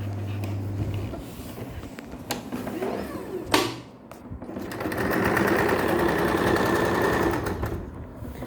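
A sewing machine stitching a blouse runs in steady bursts, pausing briefly midway with a sharp clack, then resuming a loud, continuous whirring hum to the end.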